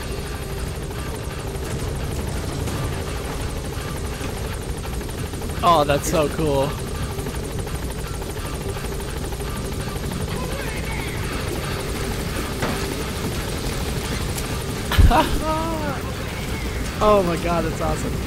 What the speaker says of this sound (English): Support helicopter.